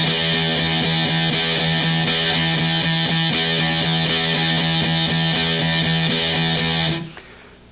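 Distorted electric guitar strumming steady eighth-note chords with an accent on the and after three, a loud dense repeated pattern that rings for about seven seconds before cutting off, with no voice.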